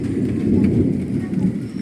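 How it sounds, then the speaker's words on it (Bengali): Thunder rumbles low and steady through a dark, heavily clouded sky as rain begins falling in light drops, a continuous close wash of sound with no voices. "মেঘ ডাকছে দেখেছেন"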